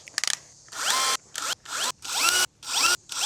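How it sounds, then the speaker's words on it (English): A power drill drives screws during an assembly build, starting with a few rapid clicks and then five close, loud whirring bursts with short pauses between them. "No, you can drill."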